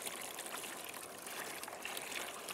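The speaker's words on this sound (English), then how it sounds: "we are gonna rinse this strainer." Fresh water trickles and splashes faintly through a strainer being rinsed outdoors beside a creek, a soft, continuous watery patter.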